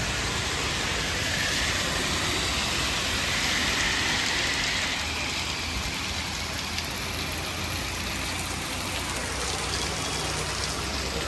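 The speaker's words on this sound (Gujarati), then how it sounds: "વરસાદ ચાલુ છે," Rain falls steadily in a continuous dense hiss, with a low engine idling underneath, constant and fairly close without pauses.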